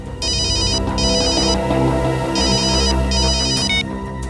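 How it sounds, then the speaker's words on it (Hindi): A mobile phone rings loudly in a crime drama scene, an electronic ringtone in repeated bursts over a steady background music bed, with no talking. "सर, मोबाइल कंपनी से फोन था।"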